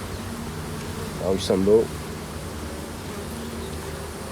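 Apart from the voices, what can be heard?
honeybees buzzing at an open beehive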